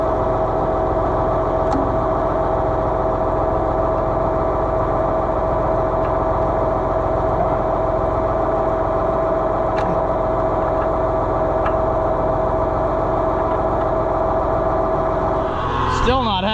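An Oliver 1755 tractor engine with a Grizzly backhoe attachment drones steadily and loudly throughout, a constant low rumble with a brief shift in pitch near the end.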